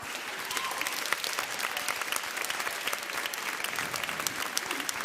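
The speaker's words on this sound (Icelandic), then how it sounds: "við skulum gefa honum gott klapp" A church congregation at a confirmation mass gives dense, sustained applause, loud and even from start to finish with no voices over it.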